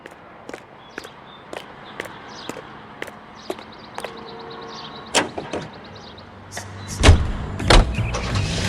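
Car driving in the video game LA Noire: a low, steady engine rumble runs throughout, with faint clicks and a few louder door-like thuds and knocks near the end, and no talking.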